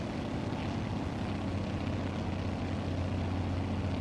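JRF-6B Grumman Goose twin-engine amphibian in Microsoft Flight Simulator, its engines giving a steady, loud low drone with a constant tonal hum throughout, no voices over it.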